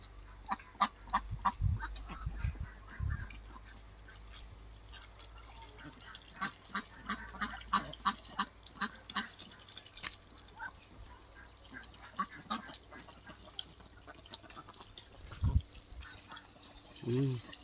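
Ducks bathing in a filled water channel in a garden, scattered soft splashes and flapping with occasional quacks, under people chatting nearby.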